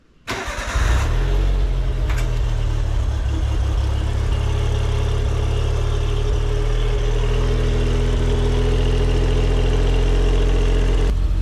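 A Suzuki Cara engine, also sold as the Autozam AZ-1, fires up after fresh fuel rail, pressure regulator and damper work, catching within a second and then idling loud and steady from close by.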